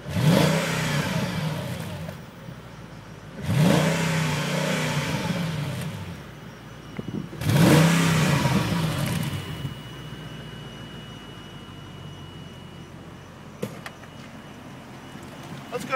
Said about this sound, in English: We're gonna let you hear the exhaust note right now.